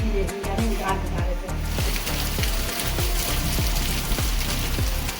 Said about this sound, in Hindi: कल रात से झमाझम बारिश हो रही है और रात दिन लगातार बारिश हो रही